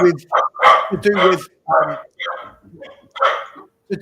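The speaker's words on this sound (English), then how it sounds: "your dogs have set my dogs off" Several dogs barking in short, loud, irregular bursts nearby, overlapping with someone talking.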